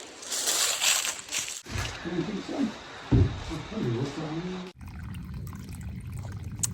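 Water is poured into a bottle at a trail shelter while refilling for a hike, a close, steady gurgling pour that stops partway, followed by quiet handling noises.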